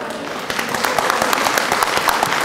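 Residents clap at a town meeting to move the question, a steady round of moderate applause from a seated crowd in a hall, without speech.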